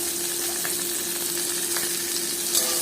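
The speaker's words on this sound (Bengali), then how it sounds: "এতে যে আমি কাঁচা লঙ্কা আর রসুনের কোয়াগুলো থেতো করে রেখেছিলাম সেগুলো দিয়ে দিলাম" Crushed green chilies and garlic cloves sizzle steadily in hot oil in a pan, a constant close hiss with occasional small pops and a faint background tone.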